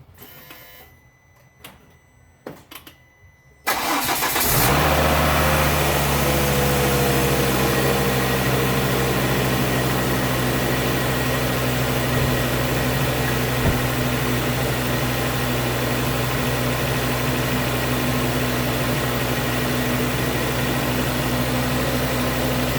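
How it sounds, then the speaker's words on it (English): A Volvo S60 engine cranks and catches after a few faint clicks and rustles, then settles into a loud, steady idle that holds close by for the rest of the stretch, with no talking. "we will go start the car up"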